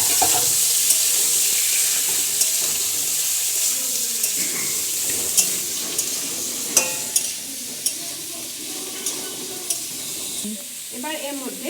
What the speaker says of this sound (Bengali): এই এঁচোড়টা আমি হালকা করে ভেজে দেবো